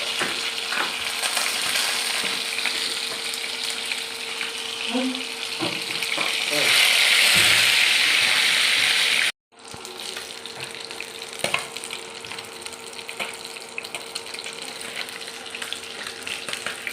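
Tilapia frying in oil in a pan, a loud, dense sizzle with spatters and occasional clinks, close by; the sound cuts out briefly, then the frying continues steadily.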